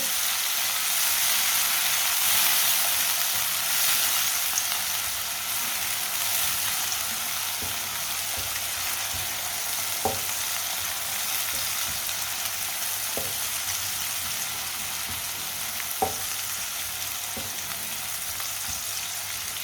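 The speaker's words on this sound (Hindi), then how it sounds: "इसे भी 1 मिनट के लिए पका लेंगे" Finely chopped green garlic frying in a pan makes a steady, close hiss of sizzling oil with a few faint taps and scrapes from stirring, and no talking.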